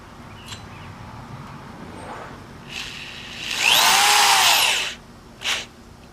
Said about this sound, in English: after screwing the first rail in place just enough to keep it from moving